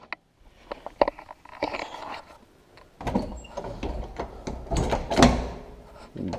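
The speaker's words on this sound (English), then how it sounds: "Door doesn't open up that well" A stiff tractor cab door is worked open with close, sharp clunks, latch clicks and rattling metal spread over several seconds.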